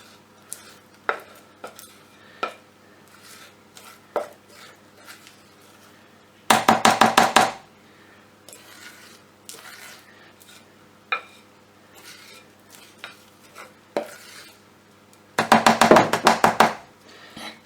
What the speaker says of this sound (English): the mixture to the prepared loaf tin. Make sure you get everything in there. Scraping down all the sides.